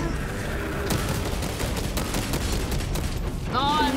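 Dense, continuous gunfire in the Space Marine 2 video game, a loud barrage of overlapping shots running throughout, with a brief voice-like tone near the end.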